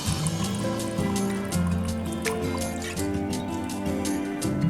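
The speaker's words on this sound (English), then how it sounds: "Only water is coming out, not oil." Water trickling and dripping from the tap of a glass separating funnel used to split water from oil, a steady close liquid dribble with small irregular drips and gurgles throughout.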